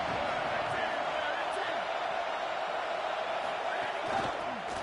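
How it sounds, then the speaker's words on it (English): Stadium crowd at a Nebraska college football game, a dense continuous roar that fills the clip at steady loudness, with a commentator's voice faintly under it. "This crowd ready to make its presence known."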